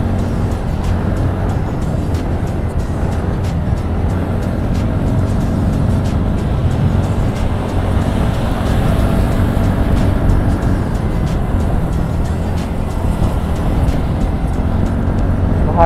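A TVS Ntorq scooter and a Bajaj Pulsar NS race side by side at night, giving a steady, loud, close engine roar with road and wind rumble throughout, no pauses.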